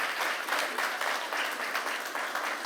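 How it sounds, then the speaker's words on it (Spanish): A strong round of applause from an audience honoring a forum of specialists at an event, dense continuous clapping with a slight pulsing swell, loud and close, no voices over it. "Volvamos a dar un fuerte aplauso a este foro."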